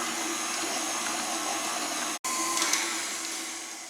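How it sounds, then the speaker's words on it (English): A stand or hand electric mixer whirs steadily and loudly while creaming butter and sugar for a Victoria sandwich cake, with a brief cut in the motor hum partway through before it resumes. "cream the butter and sugar together, starting at low speed and then working up to medium speed"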